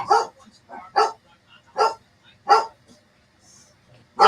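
Dogs barking in a series of five or six sharp, evenly spaced barks, fairly close and clear with quiet gaps between them.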